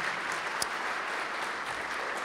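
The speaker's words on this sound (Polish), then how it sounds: "brawa się przydadzą jak najbardziej" Audience applause at the 25th Złoty Inżynier gala held in the Presidential Palace, a steady, dense wash of clapping that fills the whole stretch without pause.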